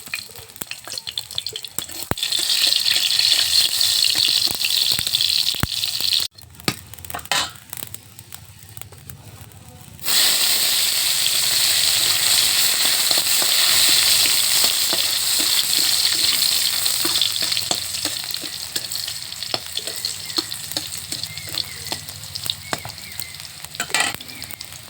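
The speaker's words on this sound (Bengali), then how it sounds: "দেখো রসুনটা ভাজা হয়ে গেল।" Garlic and dried red chilli fry in a little oil for a shapla lentil dish, giving a steady, close sizzle with stirring scrapes that dips quieter briefly midway before resuming at full strength.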